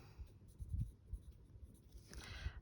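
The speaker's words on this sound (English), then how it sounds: "I'm just gonna write May back up there." A pen scratches across paper close by in short, light strokes, with faint handling rustle and no talking.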